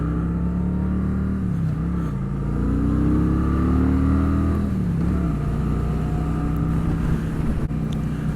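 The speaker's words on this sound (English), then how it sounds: "This has got a real nice low rumble" A Kawasaki Vulcan Custom 900 motorcycle idles and revs with a loud, steady low rumble, its pitch rising and dipping briefly a couple of times, heard up close without speech.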